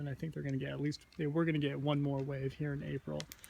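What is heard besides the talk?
No everyday noises stand out.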